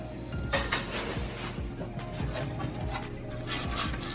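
Soaked and strained popcorn kernels being mixed around in a pot, giving close, irregular rattling and scraping clinks of kernels against metal over a low steady hum.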